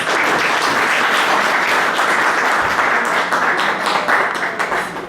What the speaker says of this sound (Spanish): merecido el aplauso a nuestra artista